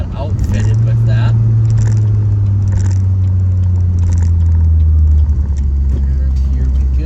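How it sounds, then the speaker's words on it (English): A Pontiac Solstice GXP turbo engine accelerating hard from inside the car, a loud steady drone climbing in pitch with faint whooshes and rattles over it, with no talk. "Oh, the turbo goes!"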